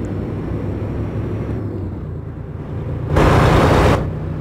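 Kenworth T660 truck engine in the American Truck Simulator game, a steady low droning idle that swells into a short, loud, broad roar near the end, with no talk.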